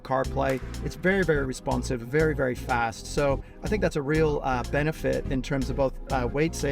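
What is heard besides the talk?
No distinct noise like a dog, phone or traffic.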